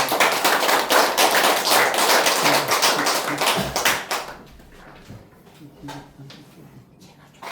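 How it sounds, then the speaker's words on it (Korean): A church congregation applauding together, a dense burst of clapping that lasts several seconds and then drops off to a few scattered claps, with talk underneath. "우리 박수 한번 주세요"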